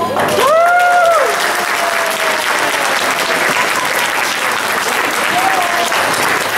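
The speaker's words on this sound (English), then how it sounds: "Let's give Selena another round of applause" Loud, sustained applause from an audience after an inspirational speech, a thick continuous roar of clapping with cheering voices and whoops rising over it early and again near the end.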